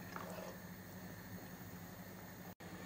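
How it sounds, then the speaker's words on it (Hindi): Water boiling in a pan for pulao on a full gas flame, a constant low bubbling rush with faint hiss, continuous apart from a brief dropout near the end. "ये पानी में बॉईल आ गया है"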